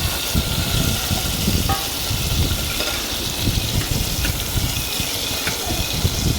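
Onion and tomato sizzling and sautéing in a pan for chicken kuzhambu, with scraping and stirring clatter throughout over a busy, noisy kitchen background.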